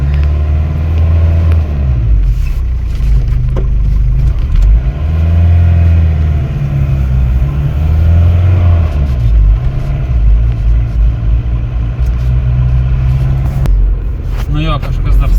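An Opel Frontera A, old and neglected, drives with a loud, steady low engine rumble that swells and eases, while people talk over it throughout.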